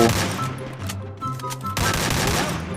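Gunfire from the mobile battle royale game Free Fire, several bursts of shots at mid distance, some sharp and close, others more distant, with no talking.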